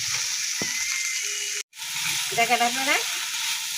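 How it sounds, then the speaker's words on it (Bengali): Dried leaves fry in oil in a kadai with garlic and chili, a steady close sizzle that cuts out for a moment and then resumes, with someone speaking briefly over it. "এই যে পাতাটা ভাজা ভাজা করছি, রসুন দিছি, লঙ্কা দিছি"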